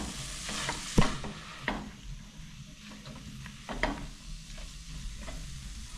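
Samosa filling with cilantro gets stirred in a pan just off the gas stove, a soft scraping stir over a faint residual sizzle, with a few louder spoon knocks against the pan.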